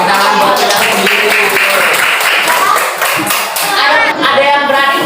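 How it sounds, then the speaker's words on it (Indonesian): Classroom of students clapping their hands for themselves during a teaching simulation on the water cycle, loud close rapid claps that thin out near the end, with voices mixed in. "Tepuk tangan dong. Tepuk tangan buat kita sendiri."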